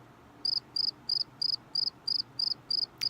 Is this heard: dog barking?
no